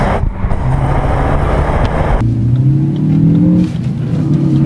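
A Ford Focus ST with about 250 horsepower and its original exhaust revs hard and loud, its engine note rising through gears with shifts between, close and steady with no talk.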